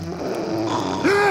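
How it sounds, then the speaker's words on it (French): A cartoon elf snores loudly, a drawn-out rasping groan that rises into a voiced, wavering tone near the end, close and alone. "je ne l'ai encore jamais entendu ronfler aussi fort"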